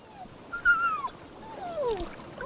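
A dog on a beach gives two rising-and-falling whining whimpers, moderately close, over soft background noise.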